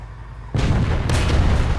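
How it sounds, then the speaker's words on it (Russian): A single heavy tank cannon blast from an ELC bis in War Thunder erupts suddenly after near silence, followed by a sustained rumbling roar and a second sharp crack. "Вы видели этот выстрел, а?"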